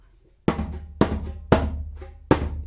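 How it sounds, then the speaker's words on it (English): Four deep, resonant djembe bass strokes, each booming and decaying before the next, played alone at a moderate, slightly uneven pace. "Listen, the bass sound like this and like this."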